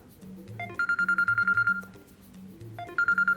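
A mobile phone rings during a call with a repeating electronic ringtone, bursts of beeping tones followed by a short pause and another ring, clear and close with no talk.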